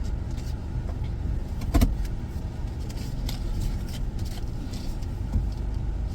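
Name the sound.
truck pulling up behind a car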